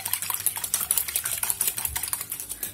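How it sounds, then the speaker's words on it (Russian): Egg whites being whisked by hand in a bowl, a quick steady run of light tapping clicks close by, with no talking. "Белки немножко взбалтываю."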